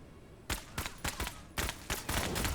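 Gunfire in the tactical video game MENACE, using suppressed match ammo: a quick series of sharp shots in uneven bursts, close and loud, with no talking.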